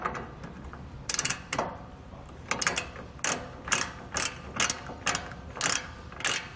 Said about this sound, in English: we're going to go ahead and tighten our factory bolt with the 17mm socket first